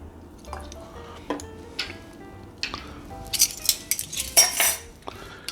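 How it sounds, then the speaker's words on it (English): A spoon stirs homemade sugar-free Kahlua coffee liqueur with vanilla extract in a container, giving close, light clinks and scrapes with soft liquid swishes that grow busier near the end, with no talking. "Give that another quick little stir."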